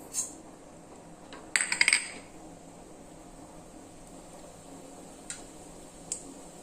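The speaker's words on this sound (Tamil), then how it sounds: "கடுகு வெடிக்குது" Mustard seeds in hot sesame oil: a few sharp pops and crackles sizzle in a quick cluster, then isolated single pops follow sparsely against a quiet hiss.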